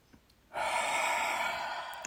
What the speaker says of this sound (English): You exhale sharply.